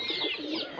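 A pigeon cooing close by, a brief soft throaty call lasting under a second with no talk over it.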